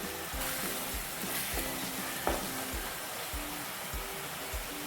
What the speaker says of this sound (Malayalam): ഇത് എണ്ണ തെളിയുന്നവരെ വഴറ്റണം